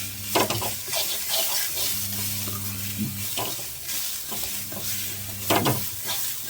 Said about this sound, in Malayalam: എന്നിട്ട് കുറച്ചുകൂടെ നന്നായിട്ട് വഴറ്റുക.